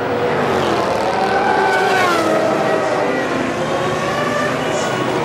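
Formula 1 cars from the 2007 season roar steadily in a line behind the safety car, a continuous loud engine drone with shifting pitch and no break, with commentary talking over it.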